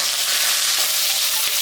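Hot oil sizzles and crackles steadily while rui fish head curry cooks, a dense, continuous frying hiss that stays loud and close throughout with no voices over it.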